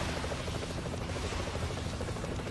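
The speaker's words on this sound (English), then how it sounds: "They just brought back in the copter." A helicopter from the Double Dragon Neon video game drones with a steady, throbbing rotor buzz, moderately loud and continuous throughout, with no speech over it.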